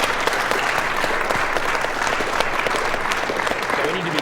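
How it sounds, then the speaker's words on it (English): An audience claps steadily at a speedrun event during an NES Shatterhand race, loud continuous applause filling the room. "We need to be clapping like this"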